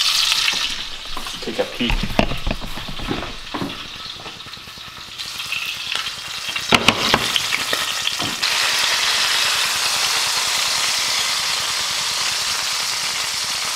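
Steak searing in a hot pan for a reverse sear gives a loud, steady sizzle that thickens into a dense, continuous hiss, with a few clattering stirs and a brief spoken comment early on.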